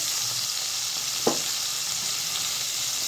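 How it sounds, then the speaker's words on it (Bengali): Green chillies frying in oil with black cumin seeds give a soft, steady sizzle throughout, with one brief louder crackle midway. "কাঁচা লঙ্কাটাকে একটু ভেজে নিতে হবে"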